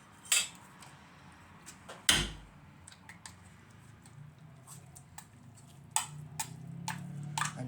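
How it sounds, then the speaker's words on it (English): Canned tuna being scraped into a dish for a tuna pasta bake: sharp metallic clinks and scrapes of utensil on tin, scattered and irregular, close and fairly quiet, no talking. "Scrape all the tuna."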